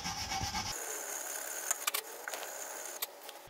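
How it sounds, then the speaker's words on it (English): A wire brush scrubs the brake disc hub surface on a VW Golf GTI Mk7 during rear brake disc replacement, giving a steady scraping rub that is punctuated by a few sharper metallic scratches; no one speaks. "just going to clean this surface up with a wire brush"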